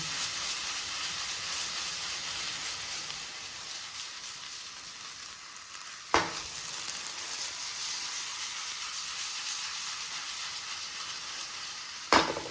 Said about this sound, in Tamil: தக்காளி போட்டு நல்லா மிக்ஸ் பண்ணி கொடுத்தாச்சு